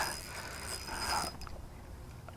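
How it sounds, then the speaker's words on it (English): Fishing reel drag ratcheting and clicking while fighting a big smallmouth bass on a river, a steady mechanical whir of clicks for over a second, then quieter with a sharp click at the end. "Loosen the drag a little bit."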